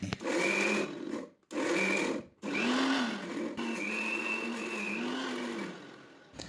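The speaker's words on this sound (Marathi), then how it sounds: "आता आपल्याला हे सगळे जिन्नस मिक्सरवर बारीक करून घ्यायचे" A kitchen mixer grinder whirs loudly as it blends spinach and other ingredients into a paste. It runs in short bursts, cutting out twice, then settles into one long continuous grind whose pitch wavers slightly.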